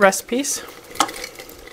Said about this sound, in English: We're gonna add onions first.